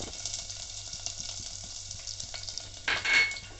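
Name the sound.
ginger and garlic sizzling in hot oil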